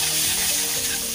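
Creamy spaghetti sauce with black pepper sizzles steadily in a pan while being stirred, a close, continuous frying hiss with soft scraping underneath and no voices.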